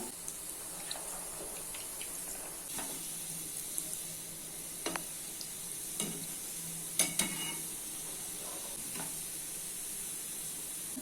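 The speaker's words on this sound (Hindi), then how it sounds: "अभी इसको मीडियम फ्लेम पे 4 से 5 मिनट तक फ्राई कर लेते हैं।" Soybean kofta frying on a medium flame, a steady close sizzle with occasional scrapes and clicks as the pieces are turned, with no talk.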